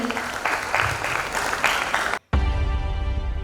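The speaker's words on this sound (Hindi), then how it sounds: "जोरदार तालियां बिफोर यू एकेडमी के स्टूडेंट्स के लिए" Spectators at an environmental awards event clap loudly for a students' group dance performance, then the clapping cuts off abruptly into a steady tonal hum.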